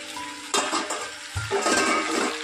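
Potatoes with poppy seeds frying in a pan, a steady sizzle that swells as the lid comes off, with a clatter of metal and stirring scrapes over the hiss.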